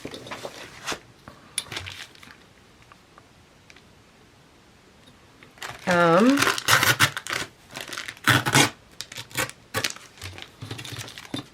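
A sheet of paper is torn by hand partway up a mixed media art journal page. After a quiet stretch, several quick, crisp tearing and crinkling bursts come close to the microphone.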